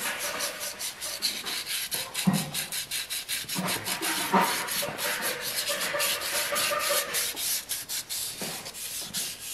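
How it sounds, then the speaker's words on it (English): Steady rubbing scrape of fine sandpaper worked back and forth over the surface of a cast capstan piece in a workshop, continuous and close with rhythmic strokes, no talking. "I got a really fine sandpaper, and I'm going to go over it here before we do this again."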